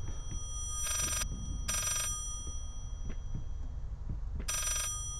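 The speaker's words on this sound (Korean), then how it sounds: "들리세요? 전화기 소리 제대로 들리는 거?" Telephone ringing in the horror video game Layers of Fear, three bursts of an old-style bell ring with pauses between, heard over low rumbling ambience and faint clicks.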